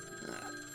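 An old-style telephone bell rings faintly in a brief burst, a short trilling ring heard alone in a Cognition: Tokyo Babel scene.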